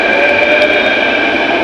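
A metro train at a platform gives off a loud, steady mechanical hum with sustained whining tones, heard close and alone for a brief moment.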